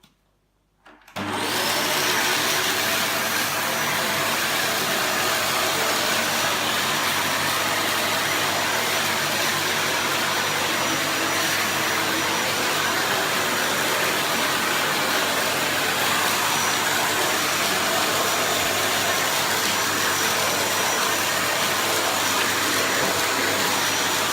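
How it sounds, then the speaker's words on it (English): A Dyson Cinetic Big Ball CY22 Animal bagless cylinder vacuum cleaner with the muscle head tool attached switches on after a brief silence, then roars loudly and steadily with a broad whooshing drone that holds until the end. "I've now got the muscle head tool attachment on. I'm now going to turn the vacuum on and see if this works any better."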